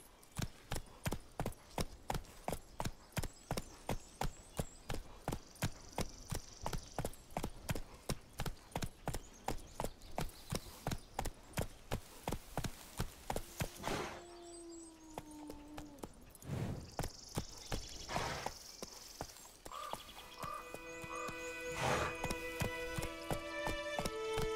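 Hooves of Geralt's horse Roach trotting in The Witcher 3, a steady, even clip-clop that runs close and clear for the whole stretch, with brief tonal game sounds and chimes breaking in near the middle and end.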